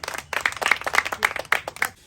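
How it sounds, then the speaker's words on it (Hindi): Children clap in quick, even rhythm at a village toilet inauguration in a comedy sketch, a short burst of sharp, fairly loud claps. "ताली, ताली, बच्चों, ताली।"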